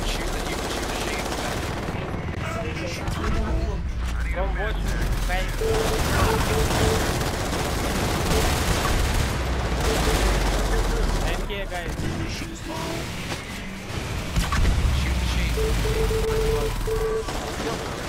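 Rapid gunfire from the sci-fi shooter Natural Selection 2 crackles in repeated machine-gun bursts through most of the stretch, with players talking over the fighting.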